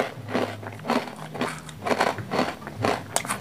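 Biting and crunching into crisp fried cassava crackers, a series of sharp, close crunches and chewing crackles repeating about every half second at low volume.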